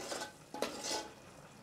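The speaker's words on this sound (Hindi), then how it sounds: "मसाले में से तेल ऊपर आ जाए वहां तक हम मसाले को अच्छी तरह से भून लेते" Spiced masala being roasted in oil in a pan for mutton paya, with quiet scraping and stirring against the metal pan over a faint sizzle.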